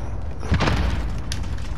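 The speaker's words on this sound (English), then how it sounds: "Someone just shot an RPG." RPG rocket fired in a video game: one heavy, muffled boom lands about half a second in and fades into a low rumble over steady background noise.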